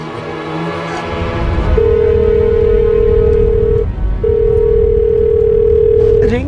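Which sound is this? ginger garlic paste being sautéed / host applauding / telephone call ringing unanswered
telephone call ringing unanswered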